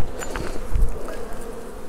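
A close, continuous buzzing of many honey bees droning together around an open hive, with a few sharper passes as individual bees fly near.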